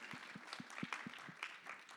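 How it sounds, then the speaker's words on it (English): A small audience at a technology breakout session claps faintly: quiet, evenly spaced individual claps in a steady rhythm, distant and sparse rather than a full ovation. "You can clap."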